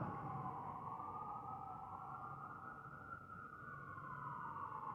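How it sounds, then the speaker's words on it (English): A wailing siren rises and falls steadily, faint and distant, continuing throughout with low traffic rumble beneath. "I'm gonna wait till the sirens go by"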